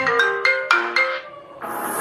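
A Redmi Note 10 Pro plays a short ringtone melody through its speaker after an audio repair, five or six bright chiming notes in a quick rising and falling run, then a sustained tone, with no talk.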